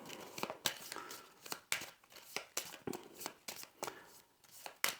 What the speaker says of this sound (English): You're going to shuffle that up.